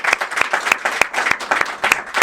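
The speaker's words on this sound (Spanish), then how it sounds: "un fuerte aplauso para el alcalde" A studio audience applauds a mayor on a television show with a brisk, rhythmic clatter of claps, sharp hand strikes repeating every few tenths of a second, with no speech.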